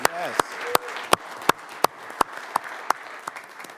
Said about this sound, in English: One more big clap for Mother Young.